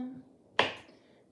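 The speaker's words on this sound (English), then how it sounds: "I'm going to slice this into about 6 pieces and put it into my dry mixture." Knife cutting through cold margarine, a single sharp slicing tap on a board, close and clear after faint background noise.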